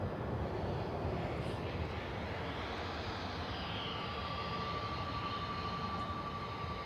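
Iberia Express airliner, flight in from Madrid, landing at Manchester Airport: a steady, broad jet roar holds at constant loudness throughout, with a faint tonal whine emerging partway through.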